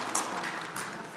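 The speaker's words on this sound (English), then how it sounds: "give them a round of applause" A brief burst of audience applause in a hall, a continuous crowd of clapping hands for about a second at a moderate level.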